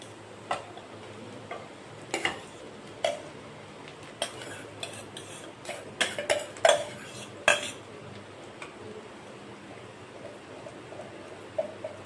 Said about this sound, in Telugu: ఇప్పుడు మనం ముందుగా ఉడికించి పెట్టుకుని రైస్ వేసేసుకుందాం